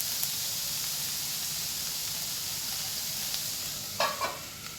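Ivy gourd (kundri) frying in a pan, a steady, close, even sizzle with a brief clatter of stirring near the end.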